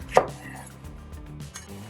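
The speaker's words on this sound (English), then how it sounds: "open the lemon" A plump lemon, softened for juicing, is sliced open with a knife: one crisp cut stands out early, followed by quieter handling sounds on a kitchen counter.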